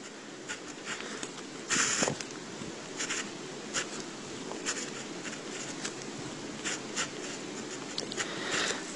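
Pen or pencil writing an equation by hand, scratchy strokes coming in short, irregular bursts close up against a quiet room hum.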